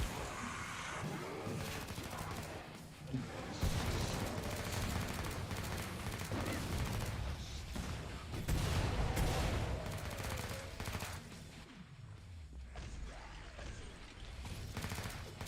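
Gunfire in Killing Floor 2, continuous rapid shots and machine-gun bursts at moderate level, dense and chaotic with brief gaps, mixed with other combat noise.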